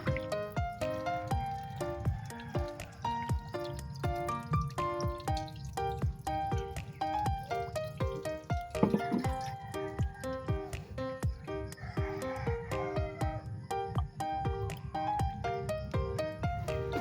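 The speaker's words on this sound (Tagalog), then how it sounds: "nalagyan na natin siya ng tubig" Water gurgles and trickles steadily as it is poured into a water pump's chamber on a pig farm, with bubbly, resonant dripping tones close by throughout.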